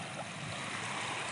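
Morning sea waves beside the shore make a steady, faint broadband wash of surf, continuous and even, with no voices.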